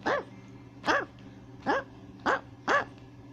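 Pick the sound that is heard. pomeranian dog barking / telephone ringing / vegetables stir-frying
pomeranian dog barking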